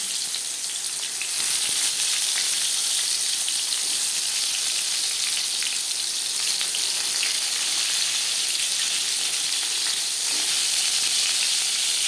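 Eggplant slices fry in refined oil over a medium gas flame, producing a bright, continuous crackling sizzle that stays close and loud for the whole stretch with small spits and pops.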